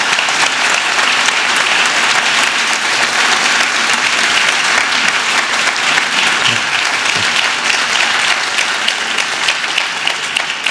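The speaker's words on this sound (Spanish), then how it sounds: "Fuerte aplauso para Pedro, por favor." A lecture audience applauds a guest researcher named Pedro at a talk on the mathematics of the Shroud of Turin and the Sudarium of Oviedo, with dense steady clapping that holds at full strength throughout.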